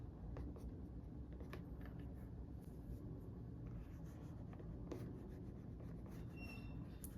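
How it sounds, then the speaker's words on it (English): Pencil shading with the side of the lead while drawing a face in profile, a steady soft scratchy rasp of graphite on paper running continuously and close, with faint squeaks and no talking. "I'm using the side of my pencil"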